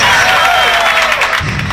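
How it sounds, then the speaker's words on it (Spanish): Audience applauding and cheering for a rock tenor at a live show, a loud sustained wash of clapping and voices with a musical tone ringing under it. "fuerte el aplauso"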